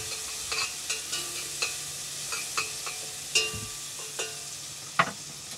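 Onions cooking in a pot for a shrimp, sausage, potato and corn stew are stirred, giving a string of light scraping clicks over a steady, soft sizzle, close and without talk.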